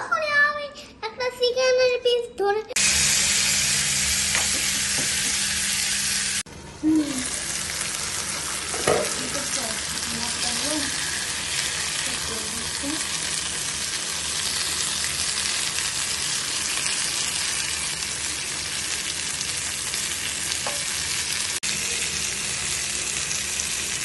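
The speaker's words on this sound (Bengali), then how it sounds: "এখন আমাদের তান্দুরি চিকেনগুলো ভাজা শেষ" Tandoori chicken pieces frying in a pan give a steady, close sizzle with small stirring knocks, after a brief stretch of talk at the start.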